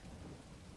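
Rain falls steadily with low rumbling thunder during a fantasy tabletop role-playing session, a dense continuous wash heard briefly and alone.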